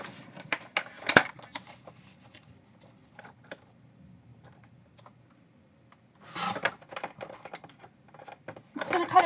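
Scissors or a paper trimmer cut down a card panel in short, irregular snips and rasps, close and fairly quiet, with louder bursts of cutting near the end.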